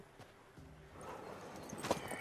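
A mare in the Witcher 3 video game clip-clops along in a quiet, steady run of hoofbeats that grows a little louder toward the end, with no talking.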